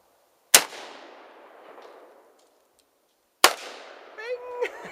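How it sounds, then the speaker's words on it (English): Two sharp, loud gunshots go off at an outdoor shooting range, fired at cans and a box, a few seconds apart. Each crack trails off in a long echo, and a brief voice follows the second shot. "I'm shooting the box, he's shooting the cans."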